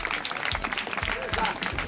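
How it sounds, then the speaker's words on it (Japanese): Short burst of applause from a small group after a home-run hitting contest, steady clapping for about two seconds with talk mixed in. "拍手。"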